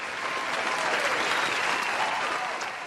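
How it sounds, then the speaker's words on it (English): Steady applause from a crowd, dense and even clapping holding at the same level throughout before easing slightly at the end. "Here's a good cheer for you."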